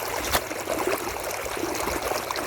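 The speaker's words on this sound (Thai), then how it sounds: "น้ำก็จะไหลวิบวิบวิบ" Water pours out of a breached rice paddy bank drain in a steady close trickle, a continuous burbling stream with no voices.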